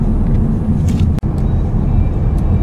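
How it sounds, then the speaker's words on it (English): A 2015 Ford Mustang EcoBoost pulls in 6th gear at about 1,000 RPM and 30–35 mph, giving a steady low engine drone with road rumble and one brief sharp click partway through. "Even though the engine sounds kind of funny, I'm really impressed with the pulling power."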